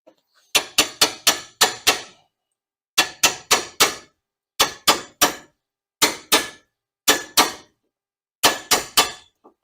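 A hammer strikes the rear brake rotor of a 2006 Chevrolet Impala in loud, sharp metallic blows, delivered in quick bursts of three to five hits separated by short pauses, close and clear with no talk.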